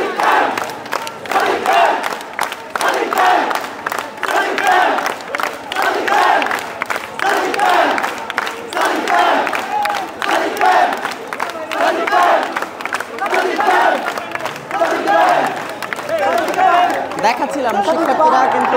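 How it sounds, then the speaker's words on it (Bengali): Students at the Dhaka University Senate building chant slogans as a dense, loud crowd, rhythmic group shouts rising over steady chatter throughout. "ঢাকা বিশ্ববিদ্যালয়ের এখানকার শিক্ষার্থীরা যারা শিক্ষার্থী রয়েছেন তারা কিন্তু সাদিক কায়েম স্লোগান দিচ্ছেন"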